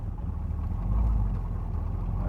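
A 1966 Chevrolet Corvette Convertible cruises along, its engine a faint, low, steady rumble with no voices over it.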